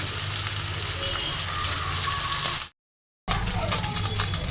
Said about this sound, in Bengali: আমি কিছু মাছ ছেড়ে দিয়েছি ভাজার জন্য, এখনও কিছু আছে। আগে এগুলো ভালো মতন ভাজা হোক